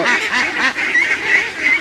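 A flock of feeding ducks quacking and honking in a dense, overlapping chorus, close and loud throughout.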